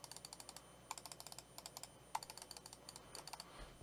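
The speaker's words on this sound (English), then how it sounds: "The one thing that I noticed about this mouse that's very different from other mice is the clicking is not very audible" Quiet, crisp clicks from a ProtoArc EKM01 ergonomic mouse come in a rapid, uneven run of many light taps, faint and close, with no talk.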